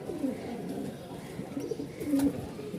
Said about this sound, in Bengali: এই কবুতরগুলো দেখতে একটু ছোট সাইজ কিন্তু মাশাআল্লাহ বাজিমাত করা একদম কবুতর।